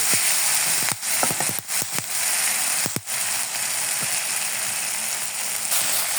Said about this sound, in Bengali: মনে হয় এখন আমার মশলা কষানো হয়ে গেছে